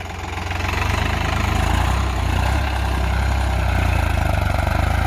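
A New Holland 3600-2 tractor working a cultivator in second high gear gives a loud, steady, low diesel rumble with a knocking pulse. It swells slightly at the start and then holds even.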